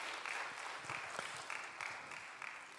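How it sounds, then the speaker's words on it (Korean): Applause from a church congregation during a worship service, a steady wash of clapping lasting about three seconds at moderate distance, with no voices over it. "우리 토기장이 되신 주님께 감사의 박수를 드리겠습니다"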